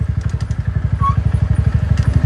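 A motor scooter engine putters in a fast, bumpy pulsing rhythm, loud and close, with jolts as it rides over rough ground.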